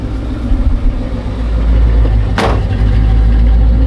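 An engine runs close by after a timing adjustment, a loud, steady low rumble with a brief sharp burst partway through.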